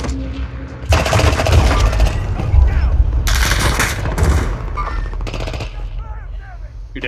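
Heavy automatic gunfire in a shooter video game, sustained loud bursts of rapid shots with short gaps, close and dense, with voices talking over it.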